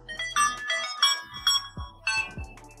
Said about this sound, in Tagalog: pwede na ba nating palitan yung tunog ng boot up sound ng mga phones ninyo?